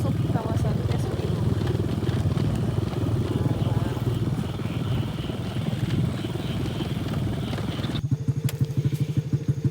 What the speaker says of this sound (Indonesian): motor kita mogok. Dan ini dibantuin sama abang-abangnya buat ngidupin lagi.